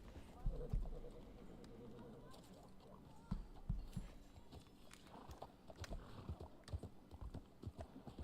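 Horse hooves clop in the video game Red Dead Online, a quiet, uneven stream of hoof beats heard under people talking.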